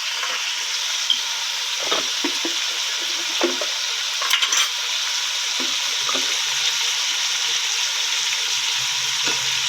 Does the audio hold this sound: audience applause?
no